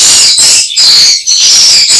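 A recorded swiftlet call plays inside a swiftlet house to lure the birds: dense, continuous high chirping and twittering, loud and steady, with a few brief dips and no voices.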